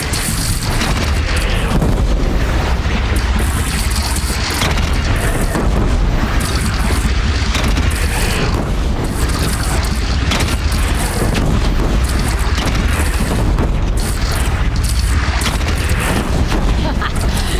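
Cannon fire and explosions from the Horizon Zero Dawn video game form a loud, dense, continuous barrage of booms and blasts with no speech.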